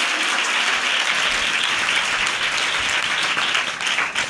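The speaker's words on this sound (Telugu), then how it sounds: "నమ్మిన వారు గట్టిగా చప్పట్లు కొట్టి దేవునికి స్తోత్రం చెప్పాలి" Loud, sustained applause from a congregation clapping in praise at a fasting prayer gathering in Ramavarappadu, a dense, steady crackle that fills the whole moment without a break.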